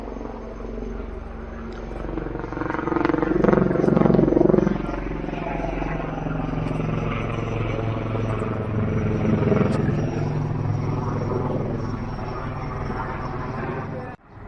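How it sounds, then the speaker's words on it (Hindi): A helicopter's rotor drone fills the air steadily over a mountain village near Dharali, peaking loud early and then holding a continuous rumble and buzz before cutting off. "हेलीकॉप्टर जा चुका है वापस"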